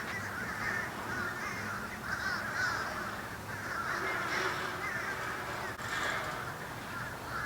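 Crows caw repeatedly in the open air near a Christmas display in Eustis, Florida, with harsh calls rising in irregular bursts from several birds over a steady outdoor background.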